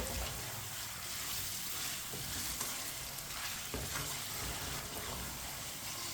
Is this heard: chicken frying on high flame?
yes